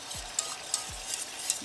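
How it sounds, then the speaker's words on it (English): Milk is stirred into cheese sauce in a hot pan for party nachos, with a few quiet, evenly spaced spoon strokes scraping through the pan over a soft, continuous sizzle. "Going in with a little bit of milk at a time just to make sure I get all the lumps stirred out as it continues to heat up"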